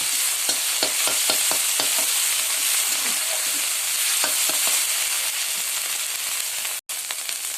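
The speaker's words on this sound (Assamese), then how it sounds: "এতিয়া আমি বটি থোৱা পিয়াজখিনি দি দিছো। এতিয়া আমি 2-3 মিনিট মান এনেকৈ লাৰি থাকি ভাজিব দিম।" Sliced onions fry in a hot pan, a continuous loud sizzle and hiss broken by repeated sharp scraping clicks of stirring, with no voices.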